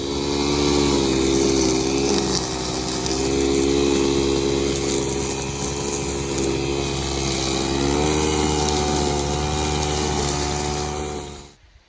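A weed eater and brush trimmer clear a section of the Allegheny Trail, the engines droning loud and close without a break for the whole stretch, their pitch rising and falling slightly as the cutting load changes.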